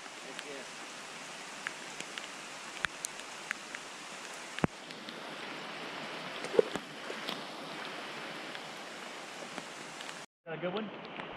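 Rain patters steadily in a soft, continuous hiss with scattered sharp taps and knocks, ending in a brief dropout, during trout fishing.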